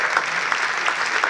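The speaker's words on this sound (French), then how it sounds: "Applaudissements pour Émile et pour sa maman." A brief, dense burst of audience applause, many hands clapping evenly and fairly close, filling the moment without any speech over it.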